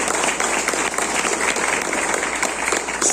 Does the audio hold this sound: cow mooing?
no